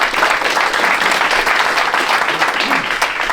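At a boxing and combat sports awards celebration in Oklahoma, an audience claps in a sustained, even burst of applause that stays loud and full across the whole stretch.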